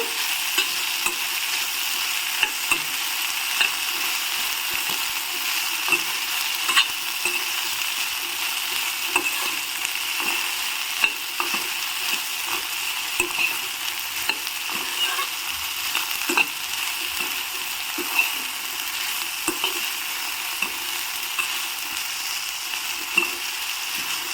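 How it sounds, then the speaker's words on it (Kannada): Chopped okra being sautéed in a pan over a tempering, giving a constant bright sizzle with frequent light clicks and scrapes from stirring throughout; close, with no talking. "ಒಂದು ಕಾಲು ಕೆ ಜಿ ಆಗೋಷ್ಟು ಬೆಂಡೆಕಾಯಿನ ಹೆಚ್ಚಿಬಿಟ್ಟು ಹಾಕಿದ್ದೀನಿ ಇದನ್ನು ಚೆನ್ನಾಗಿ ಬಾಡಿಸ್ಕೋಬೇಕು"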